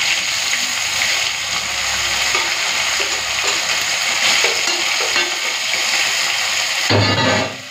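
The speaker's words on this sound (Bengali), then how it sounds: "মাছটা হালকা ভেজে নিয়েছি" Steady, loud sizzle of small mola fish frying in a pan over spice tempering, with occasional scraping stirs and a brief louder crackle near the end.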